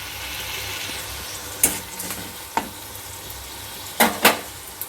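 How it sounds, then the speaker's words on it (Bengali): Onions frying in a pan over a raised gas flame, a steady sizzle broken by a few sharp scraping stirs and clinks of the spatula, close and clear with no voices. "পেঁয়াজটা ভাজা হোক"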